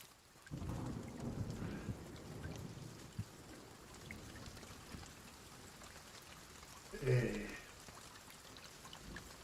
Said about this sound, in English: I've never been on an island that rains so much.